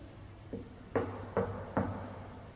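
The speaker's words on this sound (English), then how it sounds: "You can knock on something," Three distinct knocks on a hard surface inside the old Adelaide Gaol at night, evenly spaced and fairly close, sounding alone over a low background hum.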